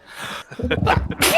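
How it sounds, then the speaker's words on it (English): A single sharp sneeze bursts out close to the microphone after a brief breathy intake and a few muffled vocal sounds. "Sorry, sneezed."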